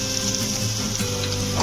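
Tomatoes go into a pan of golden-fried onions with a little salt, giving a steady, close, loud frying sizzle that runs throughout with faint stirring.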